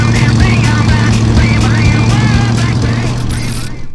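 Engine of a 1978 Ford Bronco Ranger XLT survivor with factory freewheeling package, running steadily on a test drive, a loud low rumble that eases slightly toward the end, with someone talking over it.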